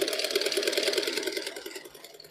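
A sewing machine stitches around the corner of a shirt collar, a close, fast, even rattle of the needle that runs steadily and then fades slightly toward the end.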